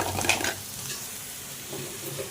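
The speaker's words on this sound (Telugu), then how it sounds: "బిర్యానీలోకి ఆనియన్ వేయించుకుంటున్నాను" Onions frying and being stirred in a pan for biryani, a soft steady sizzle with a scrape of stirring near the start, close and fairly quiet, no voices.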